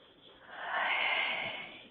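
A deep, slow inhalation during a guided breathing exercise, a soft airy rush that swells over about two seconds and then eases, close and fairly quiet.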